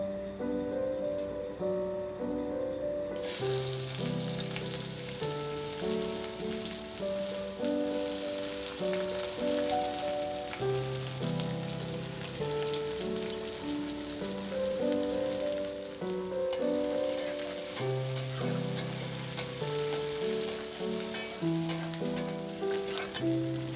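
Chopped onions sizzle steadily in hot oil in a pan, with a continuous crackling hiss for the whole stretch beneath a loud melodic music track.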